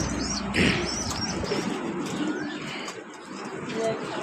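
Pigeons cooing nearby with a burst of wing flapping and scattered chirps, a busy indoor flock sound with a voice faintly in the background.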